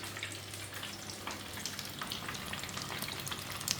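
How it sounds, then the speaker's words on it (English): Two pieces of fish fry in a pan with a steady, close sizzle and crackle, no talk. "So we've got our fish in the fry now."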